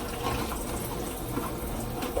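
Steady rushing water from a tap pours over live crabs being rinsed before cooking Maryland crabs, a continuous close splashing gush with no talking.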